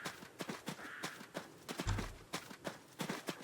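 Horse hooves clip-clop in a steady, fairly quick rhythm in the video game Goodbye - Adios, soft and close, with one heavier thud partway through.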